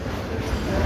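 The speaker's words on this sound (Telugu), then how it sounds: "ఇదే మా కొత్త రైల్వే స్టేషన్ ఆఫ్ కరీంనగర్" Train at the new Karimnagar railway station, a continuous low rumble and rolling drone heard close and fairly loud for the whole short stretch, with no voices.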